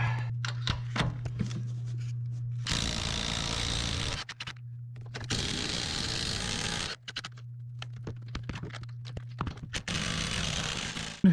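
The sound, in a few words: impact wrench removing 15mm nuts on a Suburban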